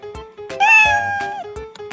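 A cat meow sound effect in Scratch, loud and clear, a drawn-out tonal mew framed by short soft clicks before and after.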